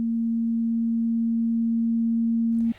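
A pure 200 hertz vibration test tone holds loud and unwavering for nearly three seconds, then cuts off abruptly with a short burst of noise.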